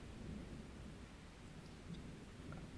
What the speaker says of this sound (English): The rain is stressing me out.